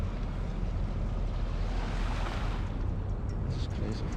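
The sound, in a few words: harbour water washing up against the harbour wall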